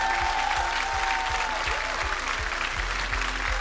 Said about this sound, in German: die kriegen nochmal einen tüchtigen Applaus vom Publikum hier in Berlin.